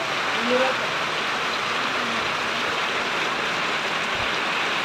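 Steady rain patters on a roof, a dense even hiss that continues throughout with no breaks.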